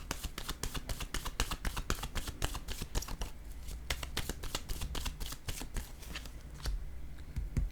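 Tarot cards being shuffled, a dense run of quick, crisp riffling clicks and flicks close by, soft and steady throughout.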